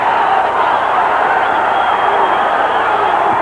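A boxing crowd roars steadily as a fighter is hurt and backed into the ropes, a loud, continuous wash of cheering and shouting that holds without pause throughout.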